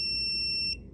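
A filament fusing tool gives a single steady electronic beep, a bright sustained high tone that cuts off sharply after most of a second, close and clear with faint background hum beneath.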